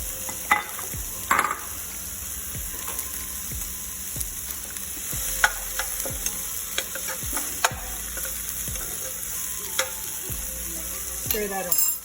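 Half a jalapeno and some red onion sizzle in a hot pan, a steady frying hiss with intermittent clicks and scrapes from stirring, fairly close, no voices.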